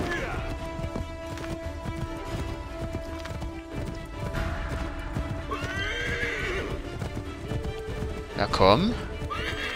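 A horse gallops and neighs in the video game Assassin's Creed 3, with rapid hoofbeats running throughout and a sharp whinny near the end, while someone talks over it.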